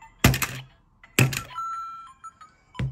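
A Lego ghost figure is knocked over, giving two sharp plastic clattering thunks about a second apart and a third at the end, with small electronic toy beeps and chimes between them.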